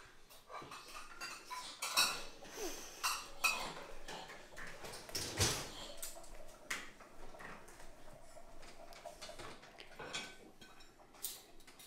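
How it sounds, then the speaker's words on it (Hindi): Dishes, pots and spoons clatter and clink as they are unloaded from a household dishwasher, a busy run of close metallic and ceramic knocks, with a dog faintly whimpering now and then. "वो निकालो सारे बर्तन, उधर से निकालो सारे बर्तन, सारी स्पून्स निकालो"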